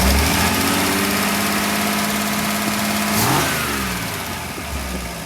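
A Ford F-150 engine, just reassembled after valve train work, revs steadily and loudly at close range, its drone holding high for about three seconds before easing back toward idle, with no talking.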